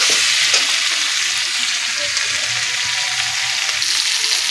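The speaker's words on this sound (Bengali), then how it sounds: "সুন্দর করে আমি কুচি মাছটাকে কষিয়ে নেব" Small kuchi fish sauté with spices in a pan, a steady close sizzle and frying hiss running throughout, with faint scraping of stirring underneath.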